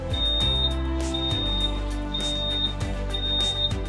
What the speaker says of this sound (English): After completed cleaning, there is a beep.